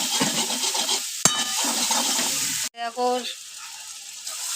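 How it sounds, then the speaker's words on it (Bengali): Pasta in white sauce stirred in a pan, a close sizzling and scraping stir that runs on, then stops briefly before resuming more quietly, with a voice talking over it. "নাড়তে থাকবে যেন লেগে না যায়"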